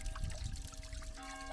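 Fresh drinking water runs steadily from an outdoor fountain in Mendiga, Portugal, a continuous close pouring splash with a low rushing undertone.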